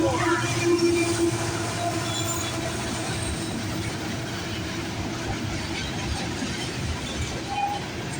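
CN freight train M397 passes on the Halton Subdivision, a continuous rolling rumble of wagons with faint wheel squeal, steady and moderately close, with little or no talk.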